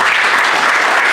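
Thick, continuous applause from an audience fills the whole moment, steady and loud with no voices breaking through.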